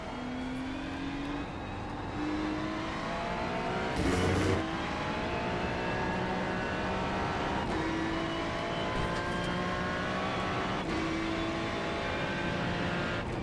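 A Ferrari 296 GT3 race car laps Zolder in iRacing, its engine droning steadily as it climbs through gears with several quick shifts and a brief drop in pitch under braking, loud and continuous.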